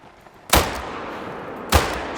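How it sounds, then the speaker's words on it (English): Two sharp rifle shots in theHunter: Call of the Wild, the first loud and booming, the second about a second later, each followed by a short fading tail, with no voices. "I shot over his head."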